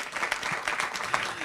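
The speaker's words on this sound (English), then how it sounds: "Big applause, everybody" A council chamber audience applauds a proclamation, a dense continuous burst of many hands clapping, fairly near and steady for the whole moment.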